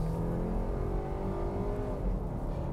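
A 2021 Volkswagen Atlas Cross Sport with a 2.0-liter turbo accelerates onto the freeway, its engine droning steadily under road and wind noise from inside the cabin.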